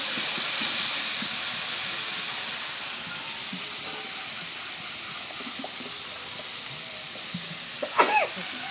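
Fresh river fish added to onion spice paste frying in a village kitchen, a steady loud hiss and sizzle that gradually settles, with faint clinks near the end.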